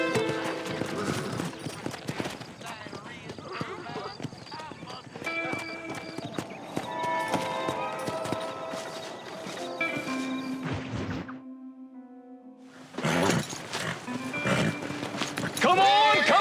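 Horses gallop and whinny on a farm in the video game Red Dead Redemption, steady clip-clop hoofbeats under dense action sound and shouting voices, with a brief lull before the commotion resumes.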